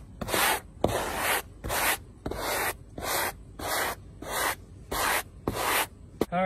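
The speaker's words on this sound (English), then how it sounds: "I'm gonna take a hard bristle brush and just scoop all this off the fiberglass" A hard bristle brush scrapes coating off the fiberglass of a Jeep Cherokee XJ in about eight loud, rhythmic strokes, each a harsh scratchy rasp with brief pauses between, close up and without voices.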